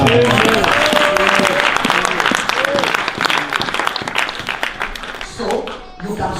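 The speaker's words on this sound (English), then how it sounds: "Give the Lord a clap." A congregation at an Easter Friday church service claps loudly and steadily for several seconds, with voices calling out over the applause before it thins and fades near the end.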